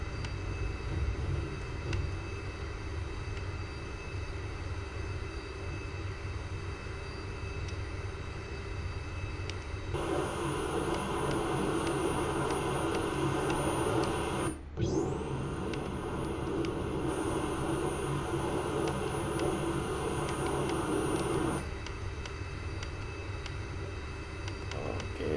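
A BAe Hawk T1 jet taxiing in X-Plane 11, with a steady engine whine and rumble that swells louder for about ten seconds, dips briefly once, then settles back to a constant drone.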